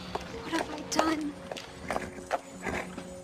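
Hooves clip-clop in a quick, uneven rhythm at close range, with a few louder strikes and faint background noise.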